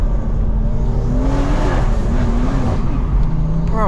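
A 580hp big turbo BMW M240i engine droning loudly from inside the car while driving at night, a steady rising and falling growl heard through an open window.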